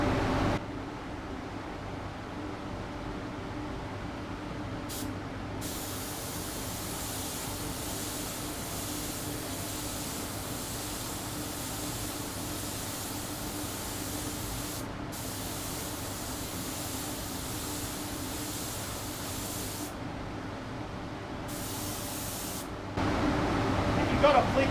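Continuous broad hiss of a spray gun laying down custom paint, steady and close for the whole stretch, with brief gaps where the trigger is released and a louder burst near the end.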